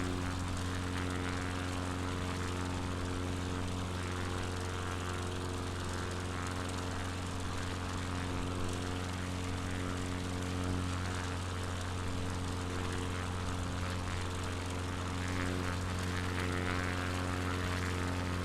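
Propeller aircraft engine in MS Flight Simulator on a Patagonia bush flight, droning steadily and loudly with a constant tonal hum throughout, no voices.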